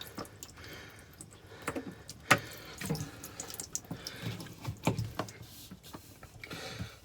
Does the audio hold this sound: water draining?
yes